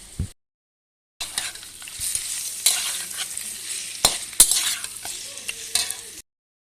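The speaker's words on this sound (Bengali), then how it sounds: "দিয়ে কিছুক্ষণ ভাজবো লাল লাল করে" Meat sizzles loudly in a hot pan, with scraping stirs and occasional sharp crackles, after a brief silent pause at the start.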